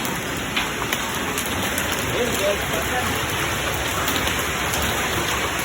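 Hail, small pieces of ice, falling in Paris, a dense steady patter of hits on surfaces, with a person speaking briefly.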